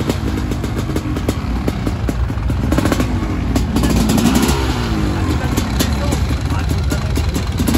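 Race motorcycle engine at a sand racing event, restarted after a cylinder repair, runs continuously and loudly up close with uneven revving, while people talk over it.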